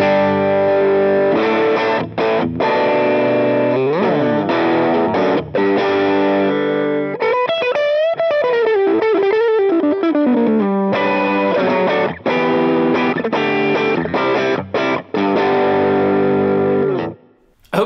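Overdriven electric guitar through a Line 6 Helix preset, set between clean and distorted, playing steady chords and a bending lead phrase in the middle, loud and continuous with no talking.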